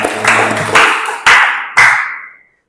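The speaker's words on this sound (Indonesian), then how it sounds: "Tepuk tangan." Students in a classroom clap together in a few short, loud rhythmic bursts, each with a sharp start and a quick fade, the last dying away into silence.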